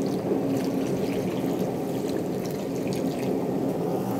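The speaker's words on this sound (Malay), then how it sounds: "Tambahkan sedikit air untuk kuah dia" Water pours steadily into a pot of beef curry with potatoes, a continuous close splashing gush at even strength throughout, with no voices.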